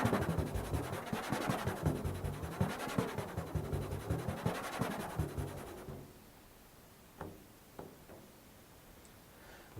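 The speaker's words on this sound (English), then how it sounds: "When you combine this with a glissando effect with the left hand, you hear a much softer glissando that sounds like this." A soft fingertip scrape on a solo percussion drum, combined with a left-hand glissando that bends the pitch, makes a wavering rubbed tone with small rhythmic pulses for about six seconds, followed by near silence and a few faint taps.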